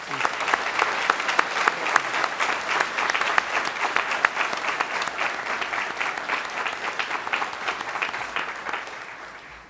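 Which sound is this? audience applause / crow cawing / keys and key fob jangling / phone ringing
audience applause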